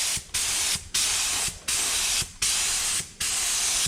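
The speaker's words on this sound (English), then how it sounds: "spray this board here" A paint spray gun spraying a board hisses loudly in five even bursts, each lasting about half a second with brief gaps between.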